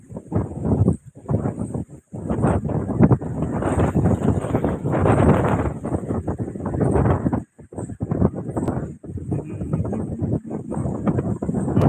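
Light wind gusts buffet the microphone at Fateh Sagar lake in Udaipur, rumbling in uneven bursts with short lulls throughout.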